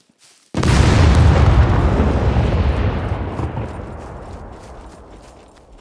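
A huge boom from ten stacked C4 charges detonating against a concrete wall in the survival game Scum, one sharp onset followed by a long, loud rumbling roar that slowly fades over several seconds.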